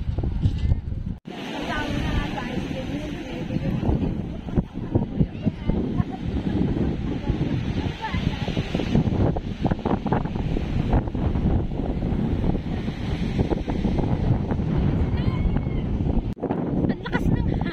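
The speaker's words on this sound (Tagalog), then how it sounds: "Ang lakas ng hangin dito sa tabing dagat." Strong seaside wind buffets the microphone at Étretat on the Normandy coast in France, a loud, continuous roar with surf washing underneath and people talking over it.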